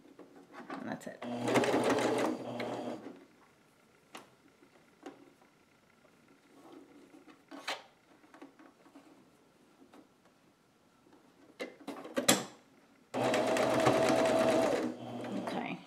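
A sewing machine stitches a face mask made from a T-shirt in two loud, whirring bursts, one at each end, with quieter clicks and handling sounds between them.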